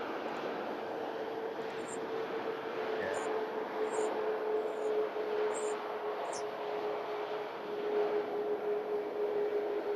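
A Turkish Cargo aircraft at Manchester Airport produces a steady, distant jet engine drone with a faint constant whine, holding at a low level for the whole stretch, with a few faint high chirps on top.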